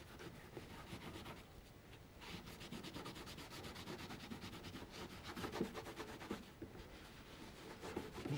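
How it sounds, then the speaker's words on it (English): A damp sponge rubbed over wet paint to lift colour off the raised peaks, giving a soft, continuous, close scrubbing with quick back-and-forth strokes, faint and without speech. "as I rub over the top, I should start to pick up the colour, take the colour off the peaks of"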